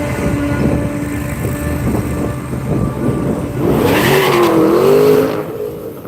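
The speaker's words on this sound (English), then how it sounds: "We got a Demon over here, guys. Let's see if he lifts the front wheels." A Dodge Demon launching at a drag strip during a Hemi shootout at Orlando Speed World, a loud engine roar that swells as the car pulls away, followed by a rising, revving whine.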